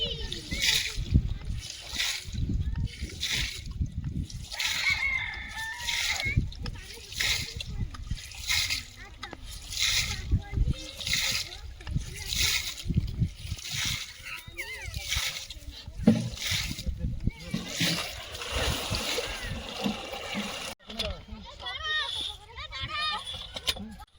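Water gushing under pressure from a tubewell pipe during installation, splashing and sloshing in repeated surges while people talk nearby throughout.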